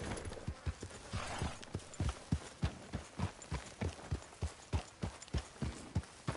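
Horse hooves clip-clop at a steady walking rhythm in Red Dead Redemption 2, close and moderately loud, with no voices.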